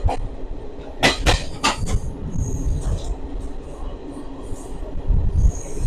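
A Ratnachal superfast express train runs loudly nearby with a constant rumble and rattle, with a few sharp metallic clanks and squeals early on and a low voice barely audible.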